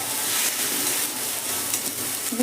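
Boiled chickpeas stirred in a hot pan for a South Indian-style chole chaat, giving a steady close sizzle with soft scraping throughout and no talking.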